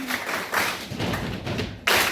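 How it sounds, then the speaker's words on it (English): A classroom of students gives a round of applause, a dense patter of hand claps that swells in bursts and stays close and steady for about two seconds. "Can you please give me the round of applause"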